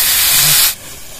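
Spice-washing water poured into hot frying spices with turmeric and green chillies, a loud burst of sizzling hiss that cuts off abruptly after under a second, leaving a quieter bubbling.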